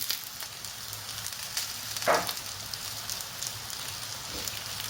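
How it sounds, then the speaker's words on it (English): Water runs steadily over vegetables being rinsed for caponata, a continuous close hiss and patter with one brief louder splash midway. "now I'm going to rinse them"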